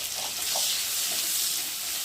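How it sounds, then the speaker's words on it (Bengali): Chopped garlic, onion and dried chili sizzle in hot oil in a pan for a shrimp and water spinach dish, giving a soft, steady crackle with faint stirring and no voices. "দিয়ে রসুন পেঁয়াজটা লঙ্কাটা একটু ভেজে নেব।"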